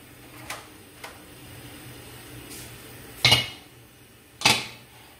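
A metal pressure cooker weight is set onto the closed lid, giving two sharp, close metallic clanks after a few lighter ticks, with a quiet kitchen background between them.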